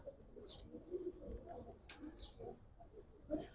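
Four male pigeons, Giribaz-type tumbler pigeons, coo in soft, low repeated calls with a few faint chirps mixed in, close by against a light background hum.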